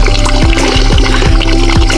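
Water trickles from a pipe outdoors on a nature trail. The flow is loud and continuous, with regular low thumps underneath roughly every half second.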